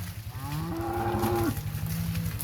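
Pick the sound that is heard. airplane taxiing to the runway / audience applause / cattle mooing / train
cattle mooing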